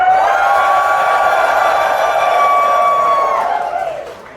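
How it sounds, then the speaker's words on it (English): An audience at a furry convention's opening ceremony lets out a loud, sustained cheer with whoops and sustained shouting on cue, steady for several seconds before trailing off. "great big cheer from the left side"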